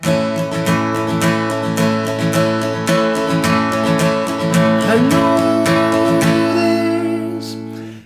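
An acoustic guitar strummed in a steady rhythmic pattern, chords ringing out openly and sustaining between strokes, close and clear.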